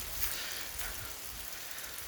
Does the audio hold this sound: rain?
yes